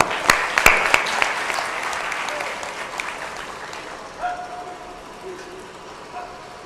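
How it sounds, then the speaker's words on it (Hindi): Audience clapping fills a bhajan gathering in Farrukhabad, Uttar Pradesh, loud and dense at first with a few sharp claps standing out, then thinning and fading over several seconds. "ताली बजाते हैं।"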